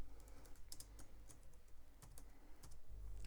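Quiet, quick keystrokes tap on a computer keyboard while a name is entered into AutoCAD software, a soft run of clicks close by with no talking.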